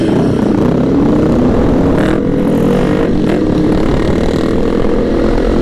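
Sport motorcycles, a Ninja 650, CBR300 and GSX-S750, ride through city streets near a harbor, a loud continuous engine roar with shifting pitch that holds steady throughout.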